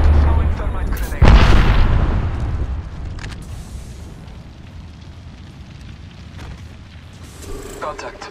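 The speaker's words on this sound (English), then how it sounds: "Throwing thermite grenade." A thermite grenade goes off in an Apex Legends-style shooter match, a sudden heavy burst that flares loud near the start, then dies into a lingering burning rumble and scattered game noise.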